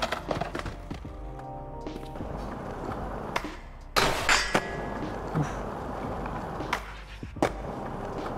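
A skateboard in Session rolls and clacks across a schoolyard, with sharp wooden knocks and pops, then a louder grinding scrape along a rail around the middle, followed by more rolling and scattered hits.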